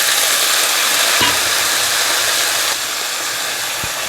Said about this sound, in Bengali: এবার আমি যে পালং শাকগুলোকে রেডি করে রেখেছি পালং শাকগুলোকে দিয়ে দেবো।